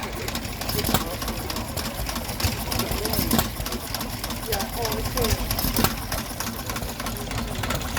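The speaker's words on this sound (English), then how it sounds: "Here we have another Amanco engine driving a water pump" An Amanco hit-and-miss petrol stationary engine of about 1 3/4 horsepower drives a water pump at an outdoor Victorian show, chugging with irregular thumps under someone talking.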